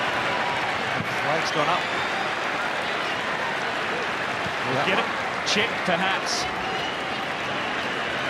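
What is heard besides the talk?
football stadium crowd applauding and celebrating a goal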